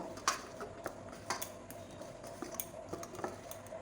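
A spoon mixes sugar and salt into flour for kulcha dough, giving faint, sparse clinks and taps against the bowl at irregular intervals in a quiet room.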